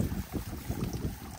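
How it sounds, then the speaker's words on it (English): Gusty wind buffets the microphone outdoors in a spring garden beside shaded containers of carex grass and pansies, a steady low rumble with rising and falling surges, fairly loud and with no voices. "Hope it's not too windy for you guys."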